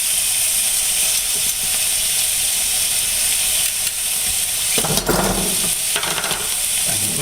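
Beef tenderloin sears in a hot pan with a loud, dense, steady sizzle. Near the end a sharper burst of crackle and scraping flares up as the meat is turned over. No one talks.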